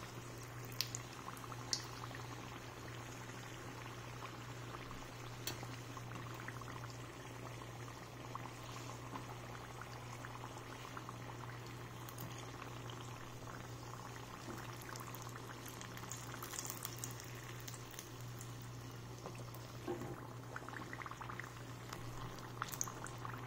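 Onion samosas deep-frying in hot oil make a steady, quiet bubbling hiss that continues evenly throughout, with faint crackles and no voices.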